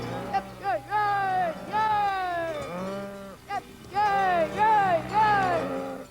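A herd of Salers cows lowing in the Cantal highlands at an Allanche festival, with several long, loud, overlapping moos rising and falling one after another, close by.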